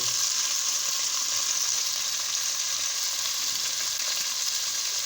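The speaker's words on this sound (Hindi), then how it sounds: "इसको अच्छी तरह मैं फ्राई कर रहा हूँ, इसका कलर चेंज हो जाए।" Steady, loud sizzling of a roughly chopped medium onion frying in a hot pot, a constant crackling hiss with no talking.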